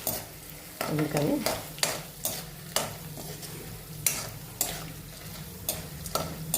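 Dried chilies frying in a pan with ragi murmura while a spoon stirs, giving repeated sharp scraping strokes roughly every half second over a steady low sizzle, with a brief spoken word.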